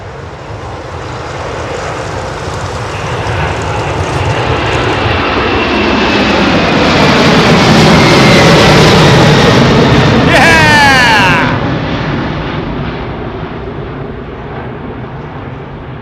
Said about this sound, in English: quite a low departure for an MD-11